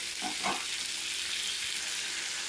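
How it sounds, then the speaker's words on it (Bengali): Yardlong beans sauté with spices in a pan, giving a steady, loud sizzle with a couple of brief stirring scrapes near the start, and no voices. "বরবটিটা দিয়ে আমি দু তিন মিনিট মতো কষিয়ে নিয়েছি"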